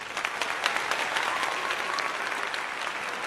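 Many hands clap in dense, steady applause that stays loud and even from start to finish, with no talking.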